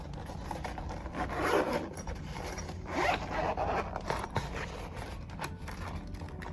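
A zipper on a small drone carrying case is drawn open in several rasping pulls, close and fairly quiet, with soft rubbing and handling noise between strokes.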